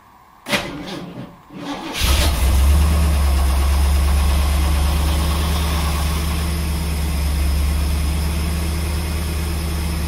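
Jaguar XJ12 Series 3 with a V8 engine cranks briefly, catches and settles into a loud, steady idle with a deep even rumble that runs to the end.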